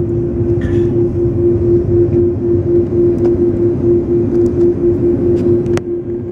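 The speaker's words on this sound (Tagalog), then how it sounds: "Jet Blast." Jet blast from a Philippine Airlines A330 roars as a loud, steady rush with a constant low drone and a sustained tone, unbroken for several seconds.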